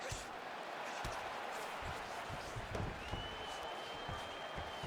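Simulated arena crowd in a UFC video game, a steady murmuring roar with scattered claps and thumps, sitting under a commentator's voice.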